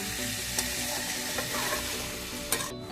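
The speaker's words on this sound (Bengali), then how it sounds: "এখন এর মধ্যে এই ভাজা আলুটা দিয়ে দিচ্ছি। এটা দিয়ে এখন খুব ভালো করে ভাজবো।" Chopped banana blossom frying together with already-fried potatoes in a pan, with a continuous close sizzle while a spatula scrapes and stirs, giving a couple of sharper knocks against the pan.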